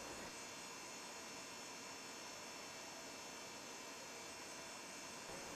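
A typical PC power supply exhaust fan running, heard close up as a steady, dense airy whoosh with a faint hum, constant in level throughout with no pauses.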